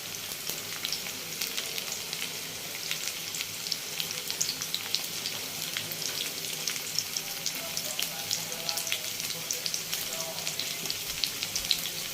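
Food lightly browns in a pan for a malabar spinach and prawn dish, a steady soft sizzle with crackling pops and occasional stirring, close and continuous.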